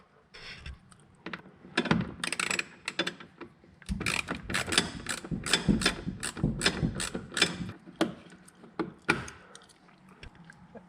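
A ratchet works a 7 mm bolt out of the top of a GMC Canyon or Chevrolet Colorado bumper, making close, irregular clicking and clattering bursts with short pauses between them.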